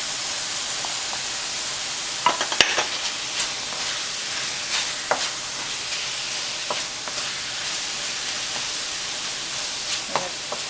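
Garlic frying in a pan for mapo tofu gives a soft, steady sizzle and hiss, broken by a few sharp taps and scrapes of a utensil against the pan.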